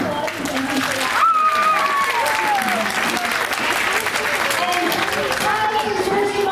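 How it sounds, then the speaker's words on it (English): Sustained audience applause fills a school board meeting room, steady and moderately loud throughout, with a voice speaking over the clapping. "So I just want to give him a big round of applause"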